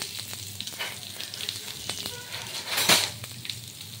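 A whole onion dropped into hot oil in a pan for aloo dum: steady close sizzling and frying crackle throughout, swelling briefly near the end, with no talking.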